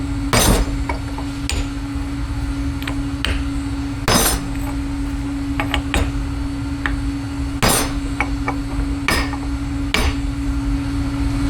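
Hammer whacks driving a flaring tool into stainless steel and aluminum for a forestay knuckle, about eight sharp metallic strikes at irregular intervals over a steady low mechanical hum, close and loud.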